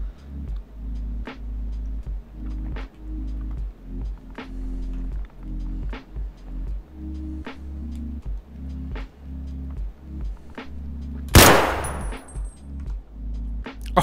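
SKS rifle fire in the video game Escape from Tarkov, with a steady series of sharp, evenly spaced shots over a low rumble, then one louder, closer blast near the end.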